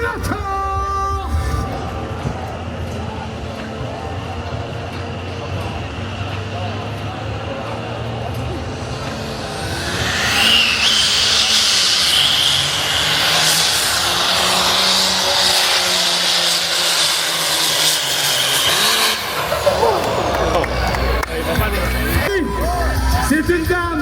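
A competition vehicle at an agricultural show roars with a loud, sustained engine howl that surges and peaks through the middle, while an announcer talks over a crowd before and after.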